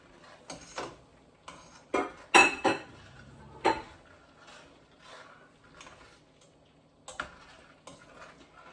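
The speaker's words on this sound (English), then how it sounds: "I'm going to just give that a stir." A spoon stirring pectin into a pot of Christmas jam makes sparse, irregular metallic clinks and taps against the pot, with a few sharper knocks and quiet stretches between them.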